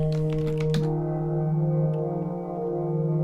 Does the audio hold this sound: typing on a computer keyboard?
yes